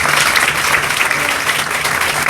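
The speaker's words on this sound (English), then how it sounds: "we can give them an applause too" An audience claps for doctors, nurses and staff at a hospital groundbreaking and name-change ceremony, producing dense, even applause that continues throughout.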